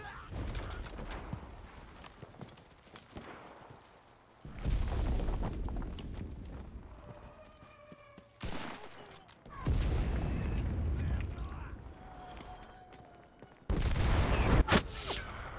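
Explosions and gunfire in the Enlisted game come as loud booming bursts and rattling volleys, separated by quieter stretches of distant battle noise, with a voice speaking at times.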